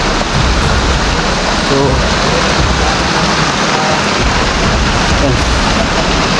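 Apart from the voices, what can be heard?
rain falling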